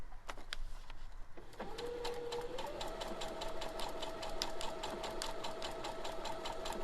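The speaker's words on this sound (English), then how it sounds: "And I'm going to put my foot down, and then I'm going to sew." A sewing machine stitching foundation paper piecing runs steadily and close, with a fast mechanical rhythm of needle strokes and a whirring motor that rises in pitch and speed as it settles into sewing.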